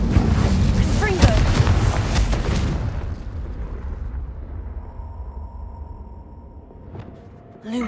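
Confringo explosive spell cast in the Hogwarts Legacy video game: a dense, loud burst of blasts and rumble for the first few seconds, fading into a low hum, with a short sharp crack near the end.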